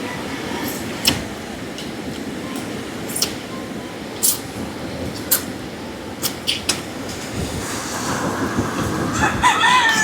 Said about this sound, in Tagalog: May manok oh.